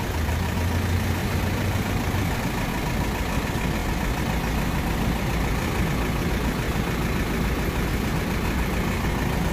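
A Nissan diesel engine idles steadily in a parked food truck on a New York City street, a loud, continuous low rumble that stays even and unbroken throughout with no voices.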